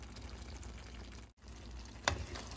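Spaghetti being stirred with melting cheese in a hot pan gives a steady soft sizzle with faint scraping, then a short louder stir near the end.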